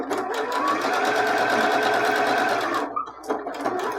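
A sewing machine stitches a fabric seam for a scrunchie, running in a fast, steady close-up whir that stops abruptly near the end, followed by a few brief mechanical clicks.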